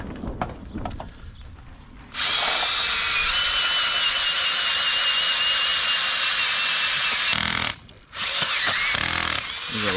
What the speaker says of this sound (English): I don't think I can drill this with one hand, but I'm gonna try.